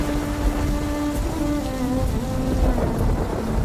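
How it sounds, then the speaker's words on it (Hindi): Heavy rain pouring steadily with rolling thunder, a dense, loud wash of downpour throughout with low rumbling underneath and faint tonal hum in the background. "सुबह सुबह तेज बारिश हो रही थी, चारों तरफ पानी ही पानी था।"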